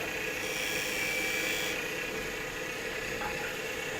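A wood lathe spins steadily as a beading tool cuts a maple burl cocktail muddler, producing a continuous even whir with a faint high scraping edge throughout.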